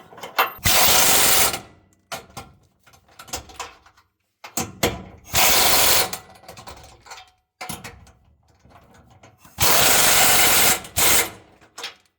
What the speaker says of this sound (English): I don't have to tighten these all the way with the socket.